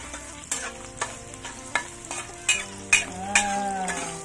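Garlic and shallots sizzle in hot cooking oil as a spatula stirs them in a pan, with repeated scraping strokes and clinks about every half second over a steady fry, close up with no voices.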